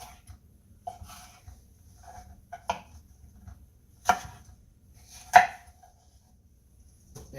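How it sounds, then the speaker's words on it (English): A knife rough-chops deseeded bell peppers on a cutting board, giving a handful of sparse, separate thuds that grow sharper and louder toward the end, with quiet pauses between strokes. "we're going to do a nice little rough cut with these"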